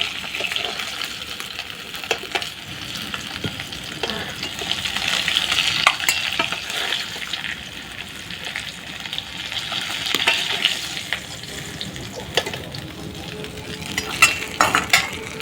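Snakehead fish pieces frying in oil in a home village kitchen, a continuous soft sizzle with occasional scrapes and clinks of a utensil turning the pieces, no talking.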